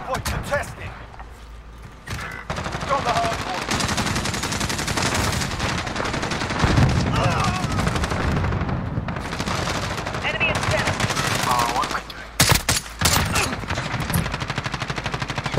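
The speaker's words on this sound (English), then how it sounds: "Oh my god, I'm getting shot at." Rapid automatic rifle fire and scattered gunshots in a Modern Warfare Hardpoint match, loud sustained bursts with brief gaps, heavy shots near the end, with a player talking over the shooting.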